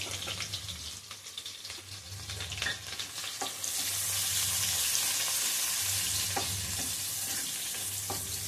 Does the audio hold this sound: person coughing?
no